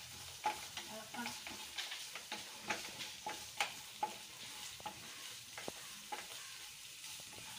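Onions sauté in a pan for egg hakka noodles, with a soft, steady sizzle broken by repeated light scraping and stirring taps, faint and close.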